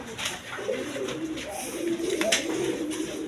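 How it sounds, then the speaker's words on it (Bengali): Beauty and Danish pigeons, adults with young, coo in low, soft, repeated calls from close by, overlapping in a steady murmur. "বিউটি কবুতর, বিভিন্ন বিটের কবুতর আছে"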